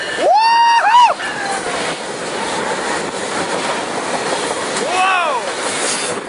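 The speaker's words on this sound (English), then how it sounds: "Oh, this train's moving." Train moving past at Fullerton station, with BNSF, Amtrak and Metrolink traffic there, giving a steady loud rumble throughout, while a voice whoops over it at the start and again near the end.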